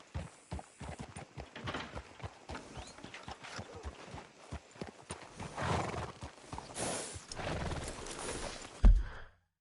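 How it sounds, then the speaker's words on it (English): Horse in Red Dead, hooves clip-clopping at a walking rhythm with a loud neigh rising near the end, then a sudden stop; close and clear with no talk. "Hitch your horse up here."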